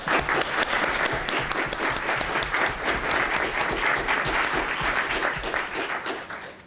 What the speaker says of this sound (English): I just wanna do a round of applause for the volunteers